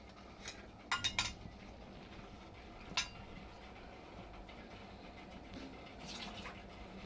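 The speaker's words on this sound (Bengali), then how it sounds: "পটলটা ধুয়ে নেব" Pointed gourd (potol) rinsed in water in a home kitchen: faint splashing and a few sharp clatters and knocks of vessels, with quieter sloshing in between and a brief rustle near the end.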